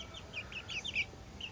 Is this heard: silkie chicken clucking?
yes